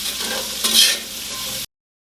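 Mushrooms tipped into a hot pan and stirred, a close sizzle with a brief louder scrape and rustle in the middle, steady until it cuts off abruptly.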